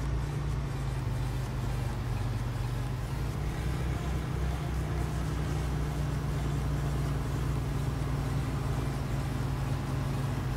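Engine of a modded 6250 tractor in Farming Simulator 19, a steady, loud low drone that holds constant throughout like an idling or cruising motor, alone without talk.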